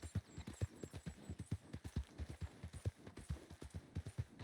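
Horse hooves clip-clopping at a steady walking rhythm while riding in Red Dead Redemption 2 (RedM), close and clear, with a faint hum behind.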